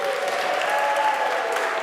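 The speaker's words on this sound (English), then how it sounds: "How about a round of applause for Henco?" Applause from a church congregation at a Sunday service, a steady wash of many hands clapping at moderate level for the full moment, with no talk over it.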